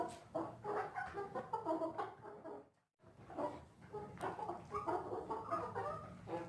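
Black Australorp chickens and a rooster cluck and murmur nearby in a continuous, busy stream, with one brief quiet gap midway.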